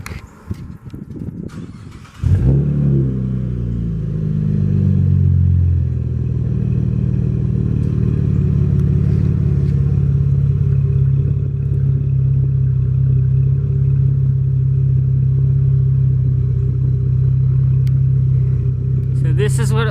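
A 2013 Chevrolet Camaro engine cranks and catches after a couple of seconds, then settles into a loud, steady close-up idle with a slight rise in revs, under faint background talk.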